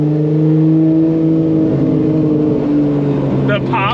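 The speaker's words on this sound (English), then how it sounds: "The pops on the limiter" A 2JZ-swapped BMW E30 with a DCT gearbox revs hard near the mic, a loud sustained engine note bouncing against the limiter with crackling pops and a sharp burst of shifts toward the end.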